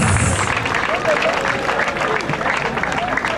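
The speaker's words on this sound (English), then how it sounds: "An applause for gallant officers." Crowd applause for gallant officers of the Abia State Command at an outdoor Ojukwu day gathering, a dense, steady wash of clapping mixed with crowd hubbub and voices throughout.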